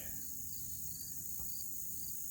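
Insects chirp outdoors in the mountains as a continuous, high-pitched trill. The sound is faint and steady, with no other sounds breaking through.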